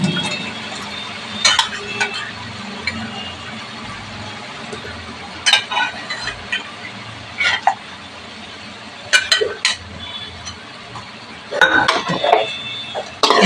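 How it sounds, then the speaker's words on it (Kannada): Cooked gundgekayi being lifted out of a pressure cooker for a liver pepper fry, heard as clattering metal utensils and scraping clinks in irregular bursts against a steady kitchen background. "ಗುಂಡ್ಗೆಕಾಯಿ ಬೇಯಿಸಿ ಇಟ್ಕೊಂಡಿದೀವಲ್ಲ ಕುಕ್ಕರ್ ಅಲ್ಲಿ ಅದನ್ನ ಎತ್ತಿ ಹಾಕೊಂತಾ ಇದ್ದೀನಿ"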